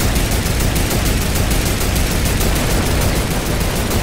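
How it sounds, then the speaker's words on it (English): Rapid, continuous automatic gunfire in the Fortnite video game, aimed at a turret, forms a loud, dense barrage of closely spaced shots that runs without pause, with no talking. "Shoot this turret, shoot this turret,"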